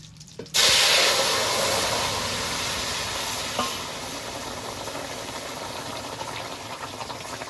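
Curry tipped into hot oil tempered with cumin seeds and dried red chillies bursts into a loud, sudden sizzle, then settles into a steady, close frying hiss with a brief spitting flare midway.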